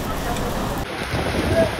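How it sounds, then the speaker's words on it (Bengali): Heavy rain pours outside a Darjeeling Mail train travelling from Kolkata to Darjeeling, giving a steady broadband wash with wind and rumble, continuous and fairly loud, with a bright hiss rising midway. "মারাত্মক বৃষ্টি হচ্ছে, মারাত্মক।"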